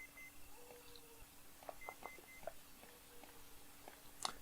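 Faint electronic beeps chirp intermittently through quiet Resident Evil PS1 gameplay, a scattered series of short tones of differing pitch over a low background hum.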